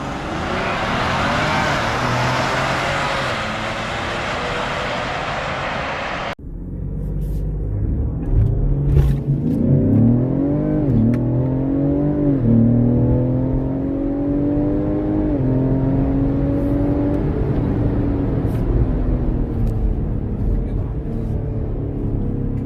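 A car launches hard from a standstill to 60 mph after a brake boost, its engine roaring loudly and climbing in pitch through several gear changes, following a short burst of wind-like noise.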